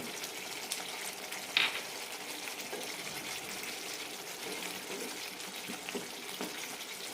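Chopped green chillies drop into an onion and curd curry frying in a pan, giving a quiet, steady sizzle with one sharp clink near the start and a few soft knocks later.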